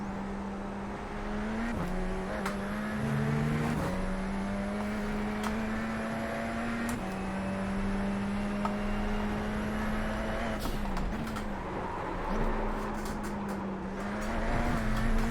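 A Radical SR10 race car in iRacing holds a loud, steady engine drone near the listener, with brief dips at gear changes and short revving rises through a lap, and no voices over it.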